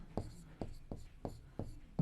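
Pen strokes on paper while an answer gets written out during a Class 7 maths lesson on simple equations: five short, evenly spaced scratchy taps, close and clear, with a voice starting up at the end.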